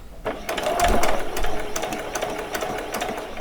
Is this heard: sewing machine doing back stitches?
yes